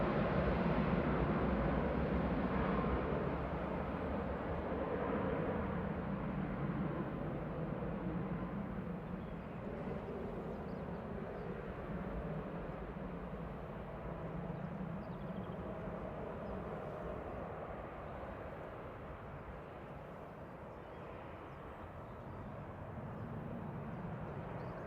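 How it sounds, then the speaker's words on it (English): A Ryanair airliner landing at Manchester Airport, a long steady roar of jet engines that slowly eases in loudness, distant and filling the whole stretch with no voices. "The landing Ryanair just came in from Vienna."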